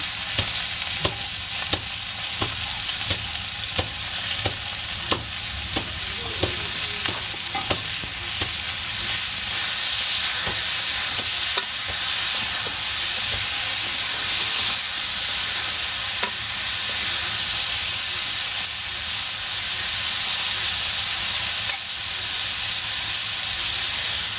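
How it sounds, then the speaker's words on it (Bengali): Loud, continuous sizzling of eggplant frying in hot oil, with regular clicks of a spatula scraping the pan, close up and without speech. "এখন ভাজি করবো বেগুন বেগুন বেগুন দিয়ে দিলাম"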